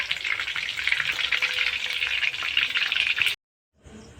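Monopia fish crackles and sizzles loudly in hot oil, a dense, continuous frying sound that cuts off abruptly, followed by a brief quiet tail.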